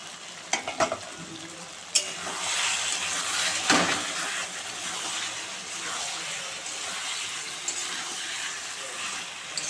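Duck meat dry-frying with spices in a pan until darkened, stirred continuously: a steady, close hiss of sizzling with scraping and stirring knocks, loudest near the start.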